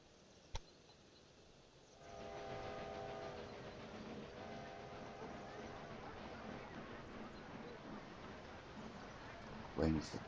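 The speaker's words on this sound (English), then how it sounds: "Waiting for the train." In the video game Railway Empire 2, a train starts running with a steady low rumble and a droning mechanical hum that sets in after a quiet start and carries on evenly, faint and distant, ending with a brief clatter.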